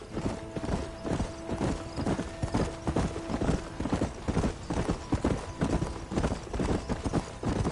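Horse hooves clip-clopping at a steady gallop in Red Dead Redemption, a continuous rhythmic pounding with an occasional faint whinny, loud and close throughout.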